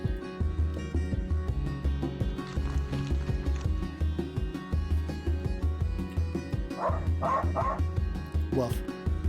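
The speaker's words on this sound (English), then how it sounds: "Woof. Doggo." Dog barking in a video game trailer: repeated, close, rhythmic woofs and yips with a few whimpers, under a steady backing beat and some mixed trailer sound throughout.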